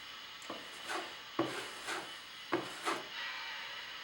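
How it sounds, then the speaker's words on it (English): A drywall trowel scrapes mud over nail holes, giving soft repeated rasping strokes in pairs, close and quiet against a faint background hum. "Put your mud on, trowel it off."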